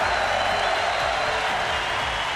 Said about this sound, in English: and getting the applause he deserves.